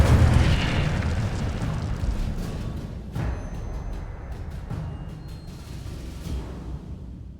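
In the Hogwarts Legacy video game, the Incendio fire spell bursts in a loud rumbling whoosh, then fades into crackling flame and scattered small pops.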